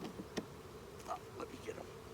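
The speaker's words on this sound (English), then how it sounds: "Lots of bees on the bottom." Honey bees buzzing close by while a hive is opened for inspection, a steady drone with individual bees passing near in brief louder swells.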